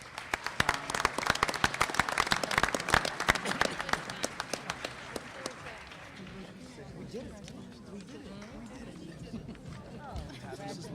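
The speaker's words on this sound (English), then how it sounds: "And one last round of applause for all our guests." An audience at a school committee meeting claps loudly for several seconds, then the applause thins into scattered claps and room murmur as people begin talking.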